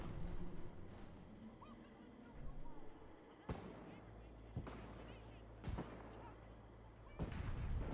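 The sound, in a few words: firework going off in Fallout 4 video game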